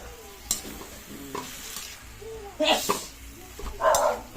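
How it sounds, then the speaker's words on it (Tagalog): Tomatoes sautéing in a pan for ginisang kamatis, a steady soft sizzle with scattered clinks and scraping stirs, louder bursts near the end, while a voice speaks intermittently over the cooking. "Sarap nito guys, ginisang kamatis."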